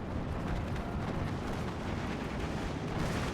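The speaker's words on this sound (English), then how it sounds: "Bomb comes in, kills a tank" In Steel Division 2, a bomb strikes a tank and sets off a dense, continuous roar of explosive rumble. It is loud, broad and unbroken for a few seconds, with no talking.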